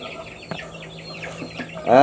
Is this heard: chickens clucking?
yes